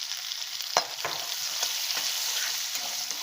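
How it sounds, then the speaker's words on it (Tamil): Turmeric powder sautéed in a hot oil tempering for lemon rice, a soft steady sizzle with a few sharp spoon scrapes and clicks against the pan, close by, with no talking. "2 நிமிஷம் வதங்கட்டும்."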